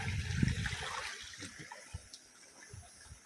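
A small rainy-season stream beside a mountain trail gives a soft, steady trickle and splash, louder at first and then settling into faint burbling with a few quiet drips.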